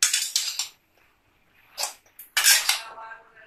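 Bread pieces being mixed into a dhokla mixture, with a spoon scraping and clattering against a metal pan in a few short, close bursts separated by brief quiet gaps.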